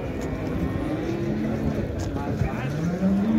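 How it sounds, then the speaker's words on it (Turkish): A five- to six-year-old cow moos at a livestock market in Şarkışla, its low drawn-out call rising near the end over steady crowd noise and people talking nearby. "Evet, inek de bu arkadaştır."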